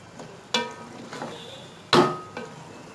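A spoon stirs a chana biryani mixture of chickpeas, green coriander and mint in a metal pot, giving a few sharp scraping clanks against the pot between soft, moist shuffling, close and fairly quiet.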